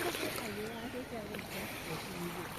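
Boat moving on the water at Neyyar Dam, a soft, steady wash of engine and water noise beneath people talking close by.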